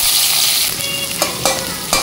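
Onions sizzle in hot oil in a kadai, a continuous bright crackling hiss broken by a few sharp spoon scrapes and taps against the pan.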